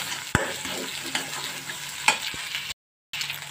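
An egg stirred and scraped in a hot frying pan with okra, a soft steady sizzle broken by sharp utensil scrapes and taps, then a brief gap of silence before the frying resumes.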